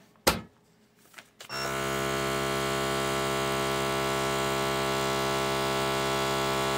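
Vacuum packaging machine sealing a bag of sprouted unbleached organic flour: two short knocks, then a steady loud mechanical hum with a faint buzz that runs on unchanged.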